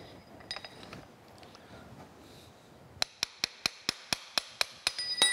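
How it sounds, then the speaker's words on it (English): Low workshop rumble, then a run of about a dozen sharp metallic hammer blows at a steady rhythm, knocking a chuck out of a number 5 Morse taper, ringing and close. "Drop that down about right there and knock this chuck out."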